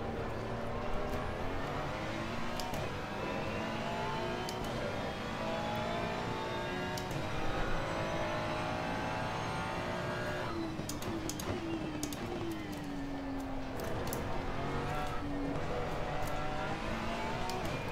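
A Lamborghini race car in Assetto Corsa Competizione howls at high revs, pitch sweeping up and down through gear changes, with other cars roaring nearby during a close race.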